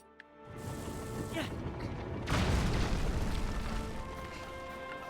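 A cannon firing in Zelda: Tears of the Kingdom: a heavy, booming blast that swells into a long, rumbling roar and stays loud, coming after a lighter mechanical clank.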